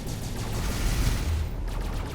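Ship cannons in the Space Engineers video game firing at drones, a dense, rumbling barrage of rapid overlapping shots and booms, loud and continuous for a couple of seconds without speech.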